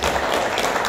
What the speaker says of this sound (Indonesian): tepuk tangan kakak majelis semuanya